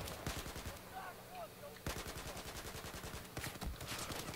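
Rapid bursts of gunfire in a Battlefield 4 multiplayer match, dense automatic volleys with a brief lull, then more firing, fairly faint and distant-sounding.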